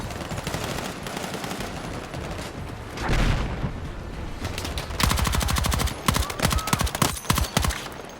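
Video game gunfire from Battlefield 6: steady automatic rifle fire, then a heavy boom around three seconds, followed by sharp, rapid controlled bursts of shots, loud and close, with no speech.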